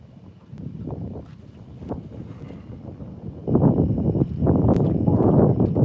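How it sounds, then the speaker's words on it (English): Side wind buffeting a microphone outdoors during a rough crossing, a steady low rumble that swells noticeably louder midway and stays strong to the end, with no talk. "Side wind"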